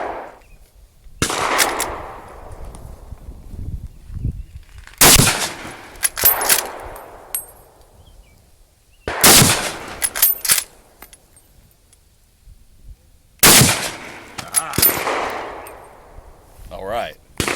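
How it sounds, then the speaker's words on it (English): Loud rifle shots at an outdoor shooting range, with a French MAS-36 bolt-action rifle in 7.5x54mm, fired in about five sharp, widely spaced cracks that each ring out into an echoing tail. There is no talking between the shots. "There's a lot of freedom going on out here, a lot of shooting, which you can probably hear during this video."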